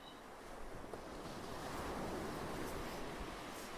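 Ocean waves wash steadily onto the beach at Naples, Florida, a soft, continuous surf roar with light wind noise and no voices.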